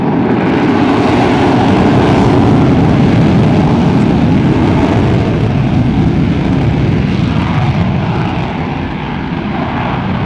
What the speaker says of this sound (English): Did you notice the short distance on the takeoff run that the Hornet made as compared to the Fury?